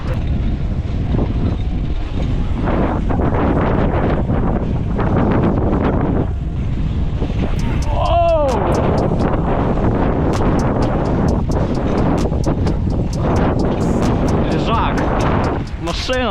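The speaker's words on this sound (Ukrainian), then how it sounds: "Ай, вітер здуває, не можна розігнатися." Loud, steady wind rumbles across the microphone throughout, with a voice speaking over it and a brief whining tone midway.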